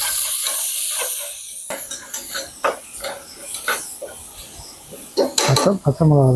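Goat head meat and intestines, seasoned with turmeric and salt, sauté in a pan with steady sizzling hiss, scraping stirs and clinks of a utensil against the pan, with brief voices in between.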